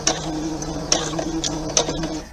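Sewing machine back stitching a thumb-hole cuff, a steady close mechanical whir with a few brief clicks and ticks, no talking.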